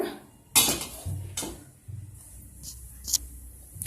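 A metal pan clanks and scrapes against a stove top several times, with sharp bright knocks spaced across a few seconds and low rumbling between.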